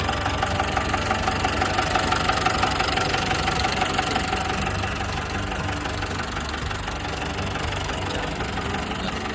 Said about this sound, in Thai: ตัวนี้เป็นเครื่องยนต์สี่สูบนะครับ